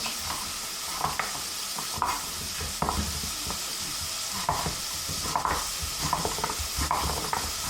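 Shallot and butternut squash pieces fry in a saucepan with a steady sizzle, close and continuous, with occasional stirring clatter and scrapes throughout.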